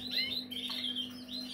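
A bred cage bird sings a quick run of bright, close chirps and warbling notes, clear and alone over a steady low background hum.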